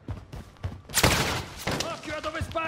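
A sudden burst of rapid gunfire erupts partway through Call of Duty: Warzone gameplay, followed by further scattered shots, with muffled voices and thumps around it.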